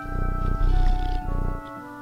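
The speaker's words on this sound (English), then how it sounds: "this is Callie, the cat with the strawberry on its head" A video game cat with a strawberry on its head gives a purring, growly vocalization over steady game music, close and fairly loud.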